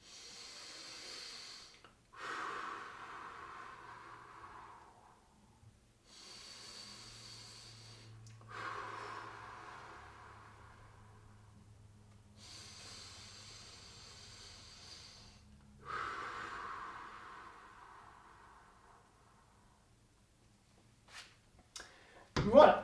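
Three long, deep breaths taken during a gentle stretching session, each slow inhale and exhale a soft airy hiss, quiet and close, separated by pauses with faint low hum in the background.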